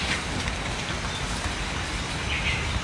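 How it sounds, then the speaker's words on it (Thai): Steady rain falls as a dense, even hiss outside a home, continuous throughout with no voices over it. "สวยมากฝนตกนะทุกคนนะฝนตก"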